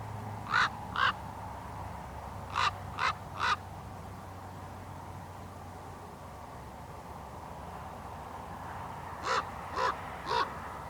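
A crow caws outdoors in bursts of two or three harsh calls, spaced several seconds apart over quiet background hiss, moderately close and alone.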